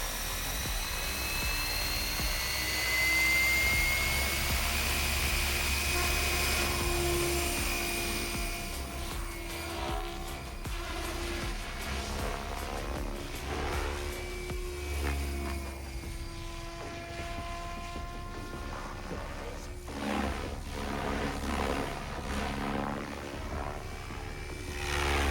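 An XL Power Specter RC helicopter with a three-blade rotor head spins at about 1400 RPM, giving a steady, loud whirring drone with a high motor whine that runs continuously, close by, with no talk.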